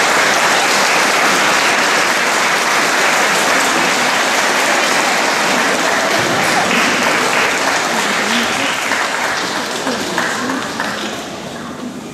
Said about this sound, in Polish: słabo klaskaliście. Jeszcze raz głośno.